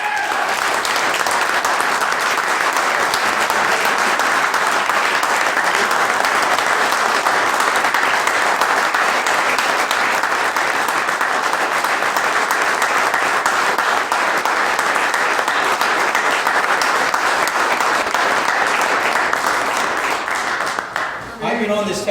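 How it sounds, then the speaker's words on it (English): Loud, sustained applause from a large crowd at a township committee meeting, steady clapping throughout before it begins to taper off at the very end. "A big round of applause."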